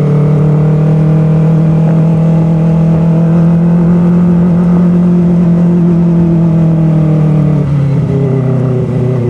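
Kawasaki ZX-25R Limited Edition motorcycle engine held at high RPM, a loud, steady, close-up whine with a slight dip in pitch near the end, no talking over it.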